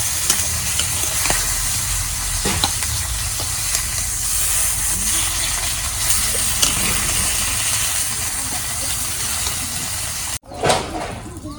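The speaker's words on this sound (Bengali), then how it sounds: "মাছ ভাজা হচ্ছে, এখন আমি তরকারি সম্বাদ দিব" Pangasius fish frying in a pan of oil, a steady close sizzle and hiss with faint stirring clicks throughout, ending in a brief burst of sputtering after a short pause.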